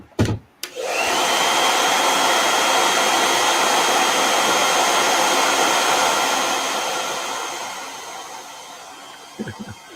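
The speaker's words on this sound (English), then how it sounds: "I'm gonna mute myself for a second here while I run this hair dryer." A hair dryer switches on after a brief clatter and runs with a steady, loud airy whine and hum for several seconds, then tapers off as it shuts down near the end.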